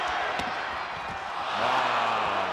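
Crowd at a 2003 McDonald's All American high school basketball game featuring LeBron James, a broad roaring wash of spectators with a brief whistle near the start and a sustained tonal sound later, loud and continuous.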